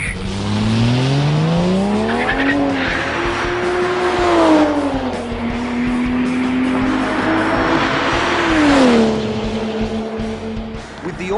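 A Ford F6 Typhoon turbo six race car from BTA Motorsports, rear-wheel drive with an automatic gearbox and 360 rear-wheel kilowatts, accelerates hard. The revs climb loud and close with distinct gear changes and turbo whoosh.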